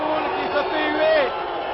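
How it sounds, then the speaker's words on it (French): Crowd at a wrestling match booing a wrestler: a sustained, roaring mass of voices swelling with a few whoops, heard under someone speaking. "Tommy Mann salue la foule qui se fait huer."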